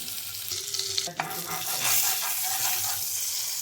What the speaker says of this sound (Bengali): আর কড়াইয়ে দিয়ে দিচ্ছি বাটার।